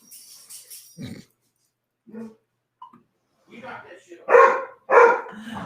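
A dog barks and yips in a few short, fairly close bursts, the last two louder, with bits of a voice between them in an indoor setting.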